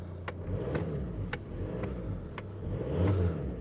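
Volkswagen Golf engine with about 170,000 km idling and revving while warming up on a car lot near Frankfurt, a steady close engine drone with a few short sharp rises and a louder swell near the end.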